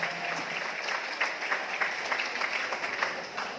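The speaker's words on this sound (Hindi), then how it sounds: "एक बार टीसी जी के लिए तो जोरदार तालियां होनी चाहिए सर" An audience at a corporate gathering for a rice bran oil company applauds, a moderately faint, continuous wash of clapping that lasts a few seconds.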